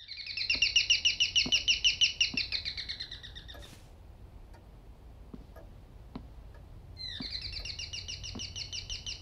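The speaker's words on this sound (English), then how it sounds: "Do we have a pet bird or something?" Rapid, bright bird chirps from a video game come in trills at the start and again near the end. Soft ticking clock-like clicks fill the quiet gap between them.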